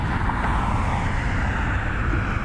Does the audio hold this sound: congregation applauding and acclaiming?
no